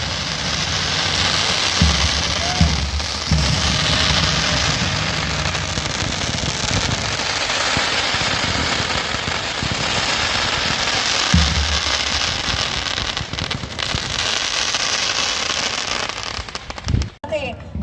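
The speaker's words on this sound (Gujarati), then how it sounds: "તિરંગાના રંગે ફટાકડાઓની સાથે આજે આ ભવ્ય આયોજનનું સમાપન થયું છે" Fireworks and firecrackers go off at the closing of the Ahmedabad City police sports meet 2024 at Shahibaug, a dense continuous crackling roar with occasional louder pops, fairly loud and outdoors, as a voice talks over it.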